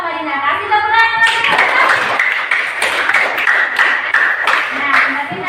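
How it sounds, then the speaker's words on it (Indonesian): A classroom of students clapping hands together, a dense burst of applause filling the room at close range, with children's voices and an adult voice heard over it. "Kasih tepuk tangan."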